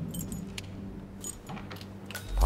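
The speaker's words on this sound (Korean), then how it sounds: "여기서 집 열쇠를 줍고" A house key is picked up in Hitman 2 at Hawke's Bay, New Zealand, giving a short, soft jangle of keys over quiet game ambience.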